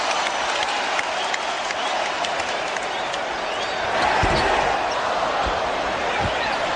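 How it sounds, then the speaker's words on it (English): Arena crowd at a 1996 NBA Western Conference Finals basketball game between the Sonics and Jazz roars and applauds loudly and continuously, swelling partway through, with sneaker squeaks and ball thuds faintly beneath. "the crowd erupts again, as well as the bench for the Sonics"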